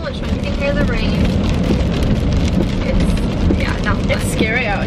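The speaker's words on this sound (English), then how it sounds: "You can hear the rain." Heavy rain drums steadily on a car during a storm while driving, a dense, loud wash with wind and road noise throughout, and voices talking over it.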